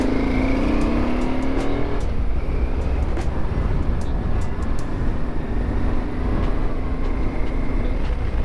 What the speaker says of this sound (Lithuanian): sėdam ant motociklų ir lekiam į kelią